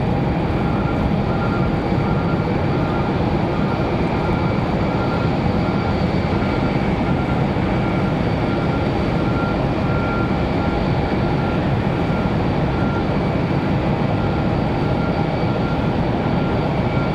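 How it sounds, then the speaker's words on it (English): Frontier Airlines jet landing at Raleigh-Durham airport, a continuous loud rumbling roar holding steady throughout with a faint tonal hum and no talk. "All right, Frontier Airlines coming in."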